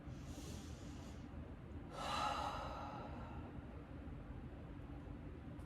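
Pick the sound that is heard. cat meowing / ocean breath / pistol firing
ocean breath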